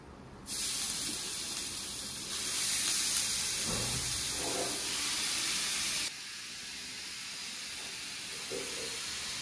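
Ridge gourd hits hot oil in a pan with a sudden loud hiss that holds as a steady, bright sizzle, swells briefly, then drops to a softer continuous frying hiss, no talk.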